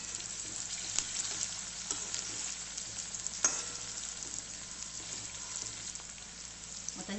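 Raw peanuts sautéing in a pan while sprouted moth bean usal is cooked: a steady, fairly quiet frying sizzle with faint stirring scrapes and one sharper tick near the middle, no voices.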